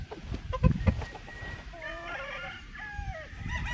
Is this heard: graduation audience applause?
no